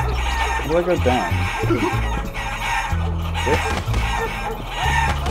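Chicken clucks and a rooster-like crow from the Guacamelee video game, short bursts repeating over game music with someone talking throughout.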